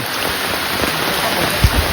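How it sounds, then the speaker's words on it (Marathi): Loud, steady rain pouring down close by in the Konkan countryside, a dense wash of drops with a low thump near the end. "म्हणून काय पाऊस जोरदार चालू झाला"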